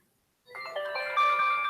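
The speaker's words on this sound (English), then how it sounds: "Shh, be quiet, phone." A mobile phone rings indoors with a bright, melodic electronic ringtone that starts after a moment of silence and keeps going, loud and steady, with no talking.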